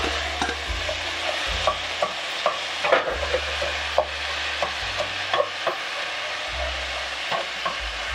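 Pork browns in a hot pan with a steady, moderate sizzle. Scattered scraping and tapping from stirring sit over it, and a low hum rises and falls in the background.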